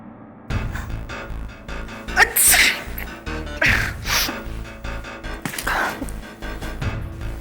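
A loud sneeze from a courtroom drama, one sharp burst over a dense background with music and other sounds.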